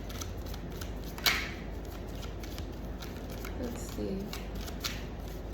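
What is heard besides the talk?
shuffling a deck of cards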